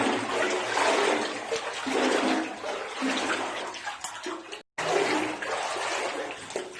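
Water in a fluorite mine rushes and splashes loudly around feet wading through it, a continuous churning wash that swells and ebbs, broken by a very brief cut.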